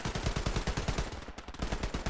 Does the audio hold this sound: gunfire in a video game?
yes